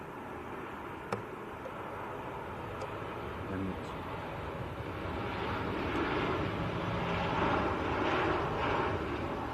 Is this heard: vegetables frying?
no